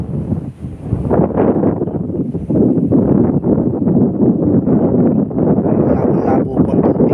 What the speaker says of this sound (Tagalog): Sarap ng hangin po dito.